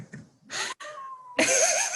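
A cat meows in a short, near, fairly loud call, with a breathy sound and a longer drawn-out cry following.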